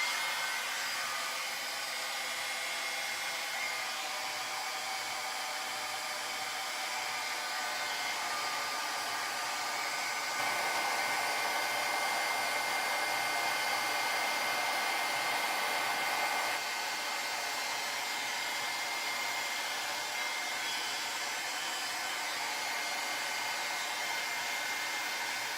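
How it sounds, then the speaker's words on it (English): A heat gun runs steadily and loudly for the whole stretch, a continuous airy roar that shifts slightly in intensity partway through before settling back. "I'm going to turn it on. It'll be loud for a minute"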